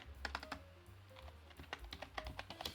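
Rapid keystrokes on a computer keyboard while entering project planning data, irregular bursts of clicky taps at close range with no talking.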